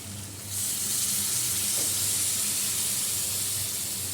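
Hot water poured into a pan of cooking meat curry sets off a sudden loud, steady hissing sizzle that rises after a brief quieter moment and holds evenly to the end.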